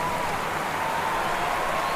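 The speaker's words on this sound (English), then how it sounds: "And apparently turn the crowd noise down." Simulated roadside crowd noise from the cycling game Pro Cycling Manager 25 during Giro stage gameplay. It is a steady, hissing wash of cheering spectators at even loudness, with no distinct voices or pauses.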